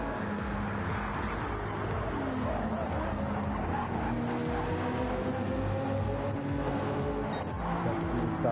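Race cars in Gran Turismo 7 roar steadily, including an Aston running in a slipstream, with engine drone and tire noise continuous throughout and no talk.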